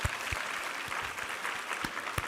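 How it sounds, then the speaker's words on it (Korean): A church congregation claps together after a sermon reading, a short burst of brisk, fairly dense applause lasting a couple of seconds with a few sharper individual claps standing out. "우리 하나님께 감사와 영광의 박수 올려드리겠습니다."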